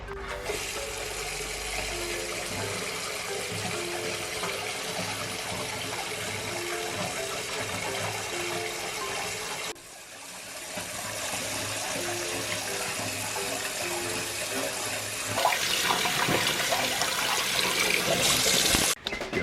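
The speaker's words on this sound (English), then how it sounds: "I'm gonna wash my face" Tap water runs steadily into a sink while someone washes their face, a loud continuous rush that briefly dips midway and then grows a little brighter and splashier toward the end, with no talking.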